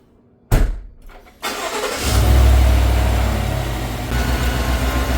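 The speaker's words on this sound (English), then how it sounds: "we can start the engine and see if it has any leaks" A 2022 Chevy Suburban's engine cranks and catches, then settles into a steady, loud idle after a brief surge, heard up close with no talking.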